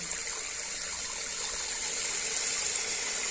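Water runs steadily into a leech-farming pond through a float valve, a continuous broadband gushing rush that stays even and fairly loud throughout with no voices.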